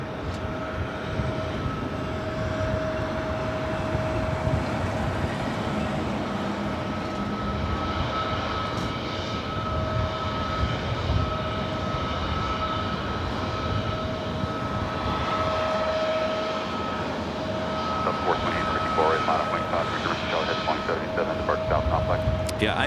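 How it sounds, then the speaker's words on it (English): Airbus A321neo jet airliner departing LAX for Lihue, a continuous engine roar with a steady high whine tone running throughout, fairly close and sustained, with slight voice activity mixed in. "A321 Neo, heading to Lihue."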